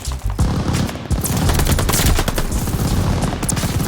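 Loud, sustained automatic gunfire from Call of Duty Vanguard as a player jump-shoots at a bot, rapid continuous bursts filling the clip with no talking.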